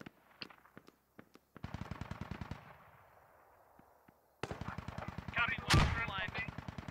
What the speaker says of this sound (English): They got those guns turned on, the heavy guns.